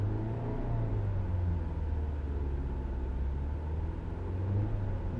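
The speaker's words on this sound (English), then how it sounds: "Let me go ahead and give it some gas." A car engine runs under light throttle during a scan-tool check of the throttle position sensor, a steady, low, rumbling drone held close and even throughout.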